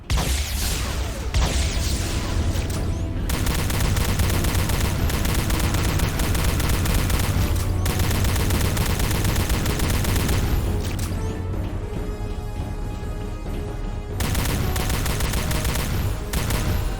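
Many Romulan enemies fire energy weapons at the player in Star Trek: Elite Force II, a dense, loud barrage of shots, blasts and booms that rarely lets up, with no talking.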